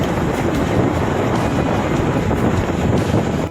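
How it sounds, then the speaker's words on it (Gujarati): Strong wind roars steadily against the microphone near Damodar Kund at Bhavnath Taleti, a constant broadband rush with no other clear sounds. "દામોદર કુંડ પાસે પવન ઉપડી ગયો છે જોરદાર"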